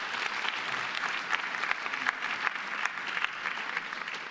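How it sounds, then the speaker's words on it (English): Audience applause at an awards ceremony, a steady, dense wash of many hands clapping that holds evenly throughout at moderate distance. "So give yourselves a round of applause."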